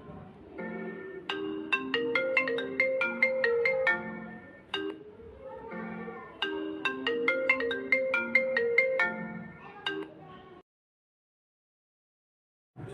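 A mobile phone ringtone plays a bright melodic electronic tune through two full cycles, loud and close, then cuts off into silence before a brief sound at the very end.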